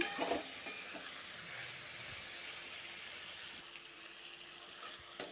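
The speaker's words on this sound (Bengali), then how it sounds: "ছোটো ছোটো করে কেটে রাখা নারিকল দিয়ে ভালো করে ভেজে নিয়েছি সবজিটা" Mixed vegetables fry with small chopped pieces of coconut in a pan, giving a faint, steady sizzle and hiss with a few soft stirring taps and no voices.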